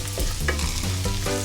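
Bacon and sliced onion frying in a pan, a steady close sizzle with stirring scrapes throughout and no voices.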